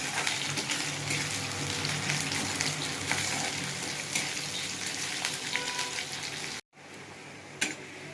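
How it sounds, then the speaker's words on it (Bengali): Onions fry in hot oil with a dense, continuous sizzle, then a brief cut to quieter sizzling with a single clink. "পেঁয়াজটা একটু ভাজা ভাজা হোক।"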